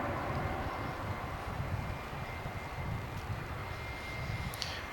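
Airbus A320neo jet of Spirit Airlines arriving at Dallas/Fort Worth Airport at night, a steady, loud broadband engine roar that holds throughout with no voices.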